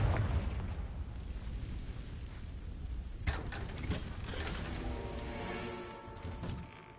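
A Confringo fire spell explodes in Hogwarts Legacy with a sharp blast partway through, set against a dense, rumbling battle din that carries on underneath.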